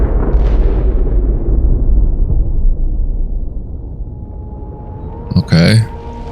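A Source blast spell explodes in Divinity: Original Sin 2, a short sharp burst near the end that follows a deep rumbling swell which fades away.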